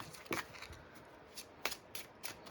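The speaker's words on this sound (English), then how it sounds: "a quick little reading, just so I can show you how nicely it shuffles" A Halloween-themed tarot deck being shuffled by hand, with several crisp riffling bursts of card edges spaced irregularly over a quiet background, close and moderately soft.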